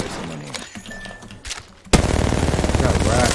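Rapid automatic gunfire from the Apex Legends video game erupts loud and sustained after a quieter stretch with brief shots and effects, firing in a steady fast rhythm to the end.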